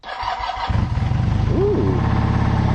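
A motorcycle with a 440 engine, choke applied, cranks briefly and fires up, settling into a loud, close, rhythmic idle with a quick throttle blip, no voices over it.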